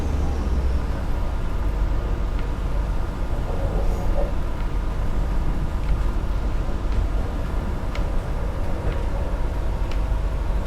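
A steady, loud diesel railcar engine roar drones on throughout without a break, with rumbling mechanical noise and no talking.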